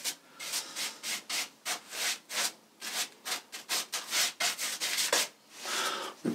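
A paintbrush applies Zinsser 123 primer to MDF panelling in rhythmic back-and-forth strokes, each a close, scratchy swish, repeating steadily about twice a second with no voices.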